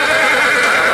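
A young foal neighs at the Muktsar horse fair, a loud, close, sustained whinny filling the whole moment without pause.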